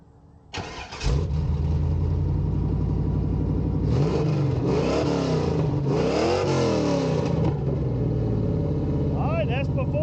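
A 1993 Camaro Z/28 engine with its exhaust being deleted cranks and catches, then revs loudly several times before settling into a rough, steady idle nearby; a faint voice is heard near the end.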